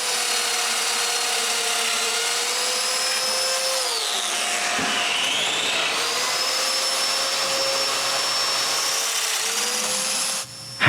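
A loud, steady power-tool whine runs throughout as a domino joiner cuts mortises for a bathroom vanity, its pitch dipping briefly midway under load, then cutting off abruptly at the end.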